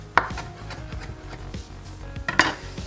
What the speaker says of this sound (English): let's start chopping the leaves first. And we're gonna chop them very fine.